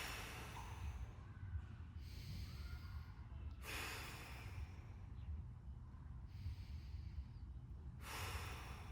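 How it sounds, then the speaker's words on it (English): During a stretching exercise, a person takes several long, deep breaths, soft airy inhales and exhales spaced a couple of seconds apart, quiet and close over a low steady background hum. "We got 3 big breaths."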